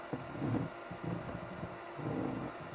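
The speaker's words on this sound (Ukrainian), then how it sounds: "вентилятор, бачите, працює." A small cooling fan whirs steadily inside a homemade 12-220 V UPS, heard close and faint as a soft airy hum with slight fluctuations.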